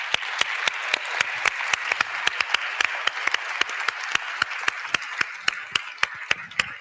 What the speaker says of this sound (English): they really do deserve a round of applause